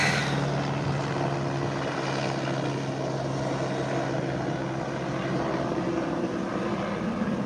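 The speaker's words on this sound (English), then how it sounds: "as the helicopter goes by" A helicopter thrums steadily and loudly overhead, its engine and rotor noise filling the air without letting up.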